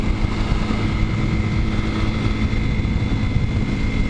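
230cc dual sport motorcycle at 57 mph, a steady buzzing engine drone with wind roar, loud and continuous with no pauses.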